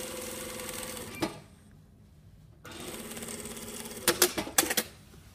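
A sewing machine stitches a shirt yoke seam in steady whirring runs, pausing briefly mid-way, then resuming, with a few sharp clicks near the end.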